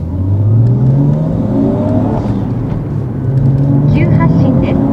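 A Toyota Chaser JZX100 Tourer V with its 1JZ-GTE turbo engine and GP Sports muffler pulls hard under acceleration, the exhaust note rising steadily through the gears, loud and close from inside the car with voices over it.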